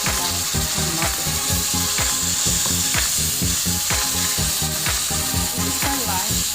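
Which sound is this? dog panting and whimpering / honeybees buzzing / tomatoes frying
tomatoes frying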